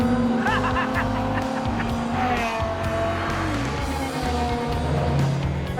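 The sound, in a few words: Lotus car driving fast at top speed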